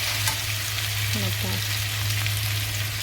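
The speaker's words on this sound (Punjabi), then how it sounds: "ਥੋੜਾ ਜਿਹਾ ਕਰ ਲਈਏ ਇਹਨੂੰ ਫਰਾਈ" Food sizzles steadily in a hot pan in a home kitchen, a constant close crackle with a low hum beneath and a brief scrape of stirring midway.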